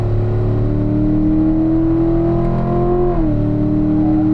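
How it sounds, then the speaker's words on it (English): A race car on a track accelerates out of a turn and up a hill, its engine holding a loud, steady rising drone before the pitch drops sharply with an upshift into fourth gear, heard close and alone. "start to accelerate out, upshift to fourth"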